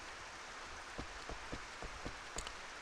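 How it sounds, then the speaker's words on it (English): Rain falls in the Rune Factory video game as a steady soft hiss, broken by a handful of faint, evenly spaced patters and drips across a short stretch, with no voices. "And it's raining."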